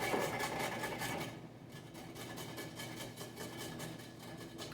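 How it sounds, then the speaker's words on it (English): Carrots are rubbed back and forth on a grater over a plate for muffins, making a steady rhythmic scraping rasp with repeated strokes, close and fairly quiet, with no talk. "grate up my carrots"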